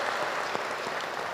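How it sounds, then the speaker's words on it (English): Brief, steady clapping from a seated audience at a funding announcement in Regina, honouring an engineering graduate. "Give him a round of applause."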